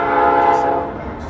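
A loud, steady freight train horn blares close by in downtown Sadieville, Kentucky, layered over the low rumble of rolling rail cars.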